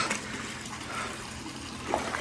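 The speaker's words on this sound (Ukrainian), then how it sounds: "Ось звідти Сюди поступає гаряча вода." Hot spring water flows steadily into an outdoor Japanese onsen on a freezing winter day, a continuous close trickling and splashing wash with no talk.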